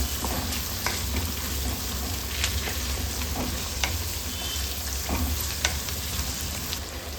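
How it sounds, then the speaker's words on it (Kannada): Sliced capsicum with pink salt fries steadily in a pan, a continuous close sizzle broken by occasional scraping stirs, with no talking. "ಚೆನ್ನಾಗಿ ಮಿಕ್ಸ್ ಮಾಡಿಕೊಂಡು ಫ್ರೈ ಮಾಡ್ಕೊಳ್ಳೋಣ"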